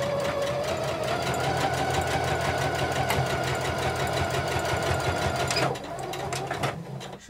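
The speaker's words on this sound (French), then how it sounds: "Le fait d'avoir allongé mon point aide la machine à piquer" A domestic sewing machine stitches through fabric for a cloth mask storage pouch, making a fast, steady rhythmic needle clatter up close that slows and stops near the end.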